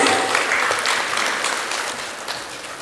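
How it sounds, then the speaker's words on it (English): Audience applauding a women-in-cinema panel at a film industry expo, a steady broadband wash of many hands clapping, fairly loud and continuous before tapering slightly toward the end. "let's give them a huge round of applause"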